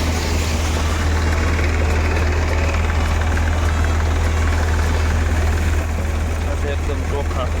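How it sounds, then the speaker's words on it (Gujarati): A tractor at 1100 RPM drives a thresher processing castor beans, giving a loud, constant engine drone with deep low hum and a steady mechanical clatter throughout, with no pauses. "1100 આરપીએમ ઉપર ટ્રેક્ટર હાલે આપણે."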